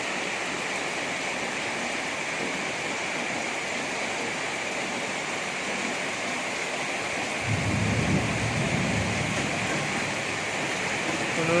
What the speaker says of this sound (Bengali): বজ্রপাত হচ্ছে আরো।